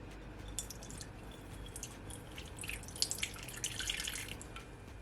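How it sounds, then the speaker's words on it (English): Jamaican Red Stripe beer is poured into a glass container, giving a wet, gurgling trickle with fizzy crackles and drips over a low rumbling background, steady for several seconds without speech. "I add at least over a 1/4 cup of my Jamaican red stripe beer"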